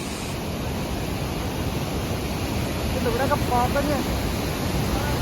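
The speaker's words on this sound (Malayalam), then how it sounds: "വെള്ളം നാറാഞ്ഞ് ഒഴുകുന്ന ഒഴുക്ക് കേട്ടോ" A monsoon-swollen river in Idukki rushes past after rain, a loud, dense, steady roar of flowing water with a person speaking over it.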